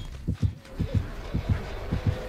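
Pulsing heartbeat terror-radius cue from the Dead by Daylight survival horror game, a steady run of paired low thumps repeating about every half second, fairly loud against a faint background hum.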